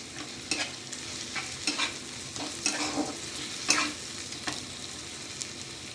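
Onion, chopped tomato and sugar fry in a pan, a continuous sizzle broken by repeated scraping stirs and clinks of a spoon at an uneven rhythm, close and moderately loud.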